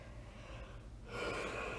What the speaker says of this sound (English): Sorry, lots of yawning.